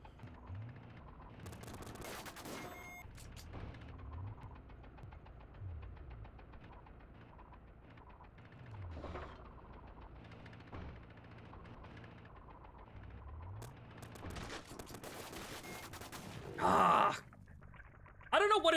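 Gunfire in the video game Psycho Patrol R, with scattered shots and bursts under a low, quiet game background and two short, louder blasts near the end.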